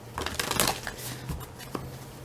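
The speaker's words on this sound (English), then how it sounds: "Okay, so I'm going to shuffle these." Oracle cards are shuffled by hand in a quiet room, giving a near, soft run of papery riffles and slides that swells briefly and then fades to small scattered taps.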